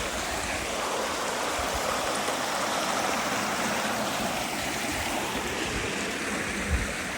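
A stream rushes and splashes along a hiking path in the Peak District, a steady, close and loud wash of flowing water that continues unbroken.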